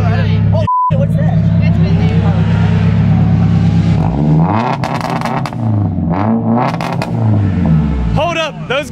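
A Formula Drift car's engine revving hard and loud near the crowd, a sustained roar that climbs and falls through several throttle blips, with a short beep early on and onlookers talking over it.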